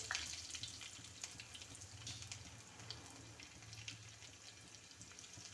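Faint, steady sizzling of onions frying in hot oil after mustard seeds have popped, a continuous crackle with occasional small pops and no voices.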